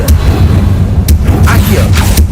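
Confringo blasting spell from Hogwarts Legacy erupting in a deep, continuous rumbling boom, with a few sharp crackling bursts flaring on top throughout.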